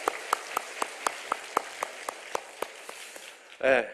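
A church congregation claps in steady unison, sharp evenly spaced beats at a quick pace that gradually soften, followed by a brief voice at the end.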